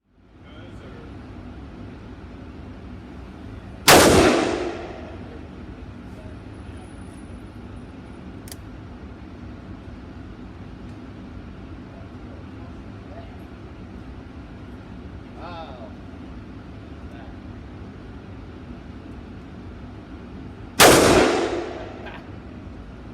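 Two loud, sharp shots from a .45 Colt Ruger Bisley Blackhawk revolver loaded with Grizzly +P ammunition, fired outdoors roughly seventeen seconds apart, each with a short ringing decay over steady background noise.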